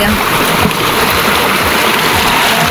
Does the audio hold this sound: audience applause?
no